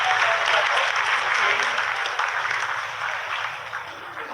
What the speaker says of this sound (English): Lot of applause indicates that till now the performance has been nominal.